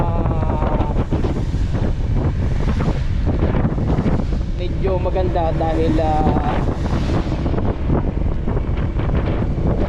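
Heavy wind buffets the microphone in a constant roar at a beachfront in rain, with a man in a raincoat speaking briefly under the gusts.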